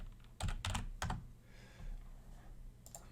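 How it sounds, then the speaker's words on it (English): A few quick keystrokes on a computer keyboard while entering a password, close clicks in short bursts with a pause between them, then one last faint tap. "Type in a password."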